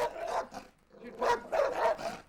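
Fierce guard dogs bark in a series of loud, close, rough barks, a quick pair followed after a short pause by a rapid burst of three, with no talking.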